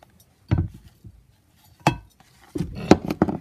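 Scattered clinks and scrapes from crushing and mixing slime with Ariel laundry detergent in a bowl, a few separate knocks followed by a quicker cluster of taps, close and clear against quiet.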